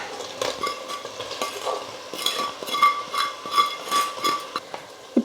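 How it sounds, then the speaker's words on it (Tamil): Fried potatoes stirred into sautéed onion and tomato in a pan, with gentle sizzling, scraping and clinks of a utensil against the pot, close and moderate, with no talk. "இப்போ நம்ம ஃப்ரை பண்ணி வச்சுருக்கிற உருளைக்கிழங்கு சேர்த்துக்கலாம்."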